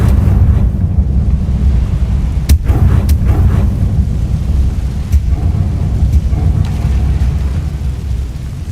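Fire spell Incendio cast in the video game Hogwarts Legacy: a loud, continuous low roaring rumble of flame with a few sharp bursts, heard alone without talk.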